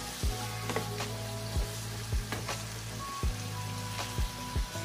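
Chicken liver and gizzard sizzle as they sauté in a pan, a dense steady frying hiss punctuated by repeated low knocks and clatters of stirring, with no talking.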